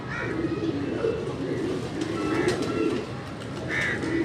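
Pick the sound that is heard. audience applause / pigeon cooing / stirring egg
pigeon cooing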